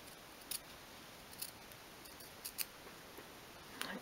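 Several crisp snips of scissors trimming material for a 1/12 scale miniature sofa, short separate cuts spaced irregularly, close and quiet over a faint background hiss.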